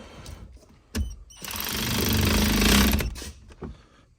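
A car engine cranks after its battery is reconnected, with no fuel yet in the rail: a couple of short clunks, then a loud sustained whirring crank for about a second and a half before it drops off, with no voices.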